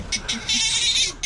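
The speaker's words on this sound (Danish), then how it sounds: "Så det eneste, en gris kan gøre, det er at skrige." A pig in a piggery screams in several loud, shrill squeals, short bursts running into a sustained cry, close by.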